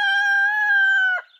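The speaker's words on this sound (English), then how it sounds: "that is one old rooster" Single drawn-out crow from an old rooster on a small farm, close and clear, a steady harmonic call about one second long that breaks off abruptly, no talk.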